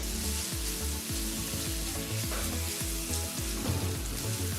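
Curry leaves frying with onions in hot oil, giving a loud, continuous crackling sizzle that fills the whole span, with no talk over it.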